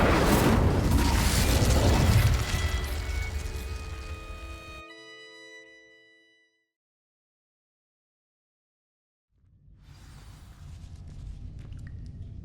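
A fiery Incendio spell bursts in Hogwarts Legacy, a loud explosive whoosh that fades over several seconds into silence before ambient game sound returns.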